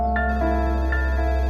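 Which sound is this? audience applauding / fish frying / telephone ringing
telephone ringing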